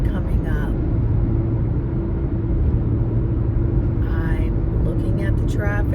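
A car cruises along a highway in the second lane from the right, its steady road and engine rumble filling the cabin throughout while a voice talks calmly over it.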